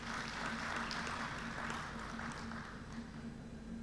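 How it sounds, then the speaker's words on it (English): Applause from an audience at the opening of an economic growth forum, a faint, even patter of many hands clapping that tapers off slightly toward the end. "May I propose that we give them a round of applause."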